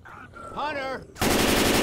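Sustained rapid automatic gunfire erupts abruptly and loud in the zombie shooter Left 4 Dead 2, preceded by a brief tonal in-game sound effect.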